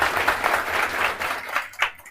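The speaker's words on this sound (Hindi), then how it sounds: "तो एक बार इनके लिए भी जोर से ताली बजाइए सभी लोग" An audience claps loudly and continuously, a dense burst of applause with a few swells, tapering off at the end.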